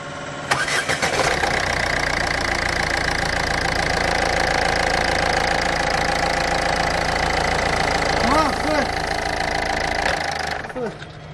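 A Ford Fiesta 1.4 freshly fitted with a new timing belt cranks and catches, then settles into a steady, close idle that runs for about ten seconds before cutting off, with a faint voice briefly heard near the end.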